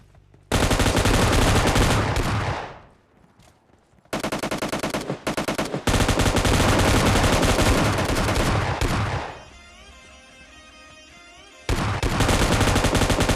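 An M249 machine gun firing in PUBG Mobile Lite, with long loud sustained bursts of rapid shots broken by short pauses and a quieter stretch of faint game ambience between volleys.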